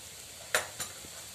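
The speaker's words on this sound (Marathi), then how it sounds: "आता आपला कांदा मिरची लसूण छान परतले गेलं आहे। त्यात मी थोडी हळद टाकते" Onion, chili and garlic sauté in a pan while turmeric goes in, giving a soft steady sizzle with two quick scraping stirs of a spoon, close and low in level.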